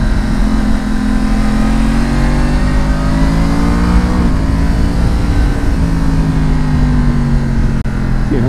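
A Yamaha MT-10 motorcycle engine pulls hard in first gear on a mountain pass road, its loud rising roar climbing in pitch close up with a brief dip partway through, no talk over it.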